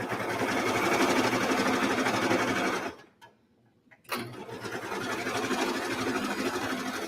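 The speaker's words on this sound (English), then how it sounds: "I like to sew with the ruffles facing up like I currently am" A sewing machine stitches ruffles onto the bodice of a child's Christmas dress, running steadily and close with a brief pause in the middle before it resumes.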